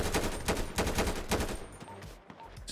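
Rapid gunfire in GTA 5 rattles in dense bursts of repeated shots, loud and close at first, then thinning out to a few scattered cracks.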